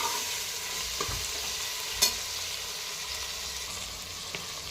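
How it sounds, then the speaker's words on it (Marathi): Mixed vegetables and green chillies sautéing in a pan for pulao give a steady sizzle, with faint stirring clinks now and then and one sharp scrape near the middle. "तर छान परतून घेऊया आता हे."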